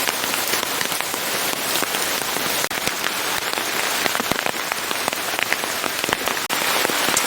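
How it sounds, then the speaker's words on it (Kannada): Heavy rain drumming on a surface, a loud, constant patter of drops with sharper taps scattered throughout. "ಮಳೆ ಬರ್ತಾ ಉಂಟು"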